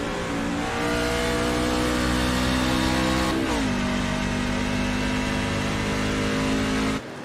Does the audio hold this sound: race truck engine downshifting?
yes